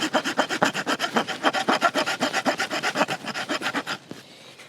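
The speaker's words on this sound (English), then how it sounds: "what about scraping some Fatwood?" A knife blade scrapes along a stick of fatwood in quick, rhythmic rasping strokes, loud and close, about six per second, before trailing off into a quieter rub at the end.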